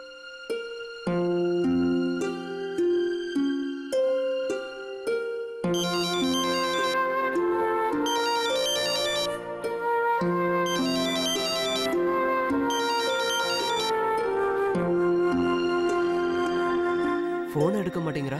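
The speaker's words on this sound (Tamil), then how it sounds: "நான் ஃபோன் பண்ணி பார்க்கறேன்." A telephone ringtone plays a melodic electronic tune with repeating chimes, loud and close, ringing on steadily throughout.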